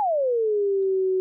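A bomb-whistle sine drop made on a synth in Logic Pro 9 sounds alone: one smooth, clean tone gliding downward in pitch and levelling off into a steady sustained note, loud and dry.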